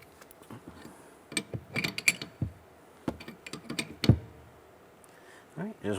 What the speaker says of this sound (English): tighten down that nut